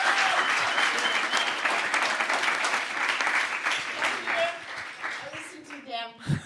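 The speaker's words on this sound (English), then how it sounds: "a very good applause for him and for the big efforts" Conference audience claps for a speaker at closing remarks, a sustained loud wash of clapping that gradually tapers, with a voice emerging briefly at the end.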